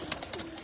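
Pigeons coo on a rooftop in Chak Jhamra, Faisalabad, giving a brief, faint, soft throaty coo with light rustling around it.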